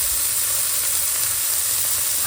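Greens with poppy seeds frying in mustard oil, giving a continuous, even hiss of sizzling oil with a short scrape at the very end, with no voices.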